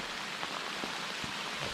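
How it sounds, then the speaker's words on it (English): Heavy rain pours down in the Canadian wilderness, a dense, steady hiss of drops on surfaces with a few brief patters standing out, no voices. "It's raining pretty hard right now."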